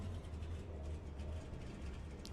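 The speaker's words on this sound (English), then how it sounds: "No, I can hear the engine running." A truck engine in an iRacing stock-car race idles at low RPM, giving a faint, steady low rumble with no other sound.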